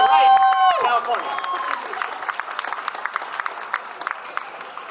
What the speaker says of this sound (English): let's give her a round of applause for all the things that go right in California